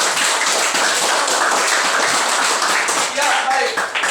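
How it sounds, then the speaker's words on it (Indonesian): Classmates in an Indonesian school classroom applaud together, a dense, steady wash of clapping held at full level for about four seconds, with a faint voice coming through near the end. "tepuk tangan untuk teman-teman"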